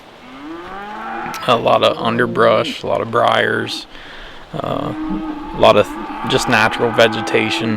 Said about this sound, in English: this cattle farm that you can hear the cows on behind me